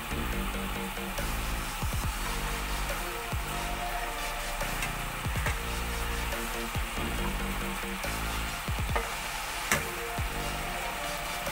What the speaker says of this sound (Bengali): এবার আমি দুই মিনিটের জন্য ঢাকা দিয়ে গ্রেভি ফুটতে দেব।